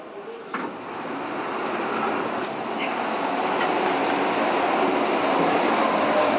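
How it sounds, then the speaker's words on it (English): Skylink airport train at DFW airport departing, its steady rolling rumble and rail noise building from a quiet start, with a few brief clicks over the continuous running sound. "This train is departing."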